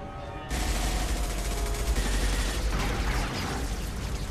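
Gunfire in the video game Mass Effect, a loud continuous burst of rapid shots and booming impacts that starts abruptly after a short quiet moment and keeps up without a break.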